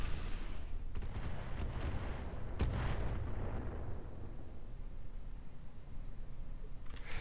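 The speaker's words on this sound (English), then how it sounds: "I think he hit me with the barrage, though." An artillery barrage lands on a mech in the Roguetech game as a dense run of deep booming impacts and rumbling explosions, with sharp cracks near the start and a sustained roar that slowly fades.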